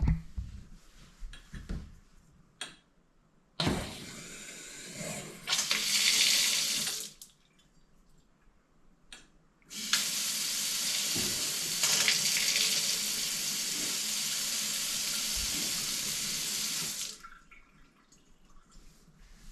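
A newly installed kitchen faucet runs water into the sink in two bursts, a short splashing stream and then a longer steady close flow, with faint clunks and drips between them.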